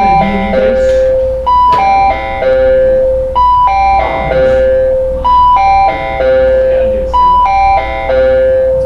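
A doorbell chimes a repeating multi-note electronic melody, loud and close, cycling several times with brief pauses between rounds and faint talk in the background.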